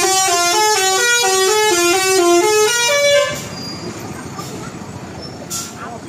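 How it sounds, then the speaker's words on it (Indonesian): Loud musical telolet horn from a bus returning from Pangandaran, playing a rapid stepped melody for about three seconds in a stalled traffic jam, then cutting off to a low rumble of idling engines and traffic. "ada telolet nih, soalnya hari Minggu jadi banyak bus yang pulang dari Pangandaran"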